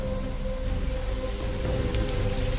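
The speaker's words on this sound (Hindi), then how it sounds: "धीरे धीरे बारिश शुरू हुई और कुछ ही देर में तेज बूंदाबांदी होने लगी।" Heavy rain pours steadily on a surface along a night path where two brothers shelter with a bullock, a dense continuous hiss with scattered droplet patter throughout and no voices.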